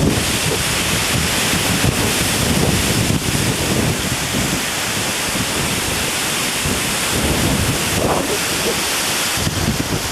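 Strong hurricane wind (Hurricane Hugo, Category 5, St. Croix, 1989) roaring and buffeting a microphone continuously, a loud rushing blast with gusty surges throughout and no talking.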